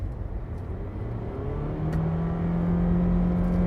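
A 2019 Honda Clarity PHEV accelerates at full throttle, its eCVT drivetrain producing a steady rising whine over a loud, continuous road and motor hum heard from inside the car.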